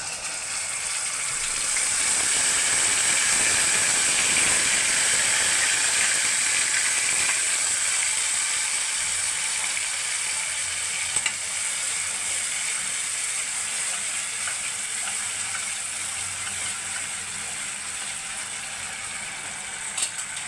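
Pointed gourd paste frying in a pan for potoler dolma, a steady hissing sizzle with faint crackle, close and continuous, slowly easing in loudness.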